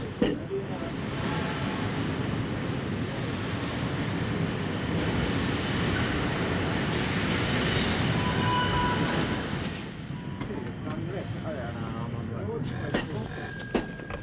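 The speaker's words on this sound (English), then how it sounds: "Train's coming in now." A steam-era passenger train pulls into a station, its wheels squealing and carriages rumbling loudly and steadily for about ten seconds before the noise eases, with a voice and station bustle audible underneath.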